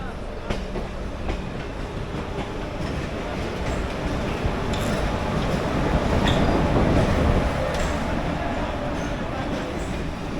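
A galloping local train runs out of Howrah toward Bandel with a loud steady rumble and rhythmic clickety-clack of the wheels, growing heavier midway, as a voice talks over it.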